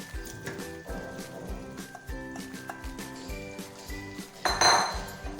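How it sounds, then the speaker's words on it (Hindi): Fried chicken is stir-fried in masala in a pan over high heat, the metal spatula knocking and clinking against the pan in a quick, steady rhythm, close and fairly loud, with a brighter scrape near the end. "अब हम इसे 2 से 3 मिनट तेज़ आंच से भून लेंगे।"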